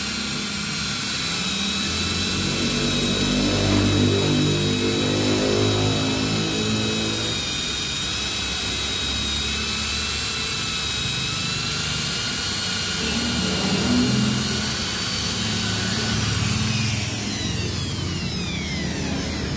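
A power tool grinds down a torn tubeless motorcycle tire to smooth the rubber before patching, giving a loud, sustained high-pitched whine that rises and dips in waves as the tool bites and eases, with no talking.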